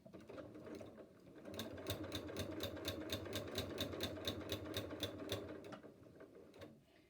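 A sewing machine stitches 1-inch quilt sashing onto quilted blocks in a steady, fast, even run of needle strokes. The strokes start up after a short pause and stop near the end, with no voices.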